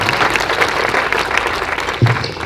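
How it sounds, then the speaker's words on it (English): At a Great Falls Municipal Band concert, the audience claps for the band's directors. The applause is close, dense and lively, and a low thump sounds near the end. "let's give a round of applause to our directors for the season"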